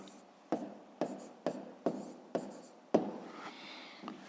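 Pen strokes on paper while working a primary-school math exercise, about seven short scratchy marks spaced roughly half a second apart, close and fairly quiet with no talking.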